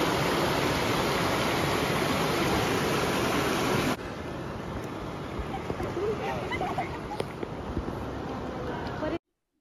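Rainy-season water pours over a village stream's overflow weir like a waterfall, a loud, continuous rushing roar heard up close that abruptly drops to a softer, steady wash partway through before cutting off.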